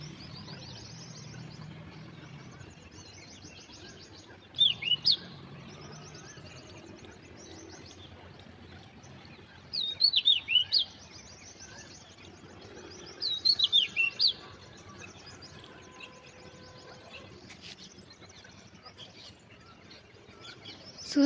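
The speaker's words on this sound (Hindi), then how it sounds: "ये नन्ही सी बर्ड आके बैठी है हमारे झंडे के ऊपर और इसकी आवाज़ इतनी अमेज़िंग है" A small bird perched on a flag outdoors chirps in three short, rapid bursts spaced several seconds apart. Faint background ambience fills the gaps, and no one speaks.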